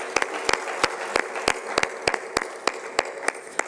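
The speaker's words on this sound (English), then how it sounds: "I think we can give them a round of applause for the efforts they've made towards our presentations today." An event audience at a conference applauds as judges come onto the stage, a steady run of crisp, close claps with a lighter crowd patter underneath.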